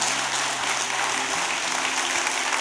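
A congregation at a church service applauds, with dense, steady clapping from many hands filling the whole moment at a fairly loud, even level.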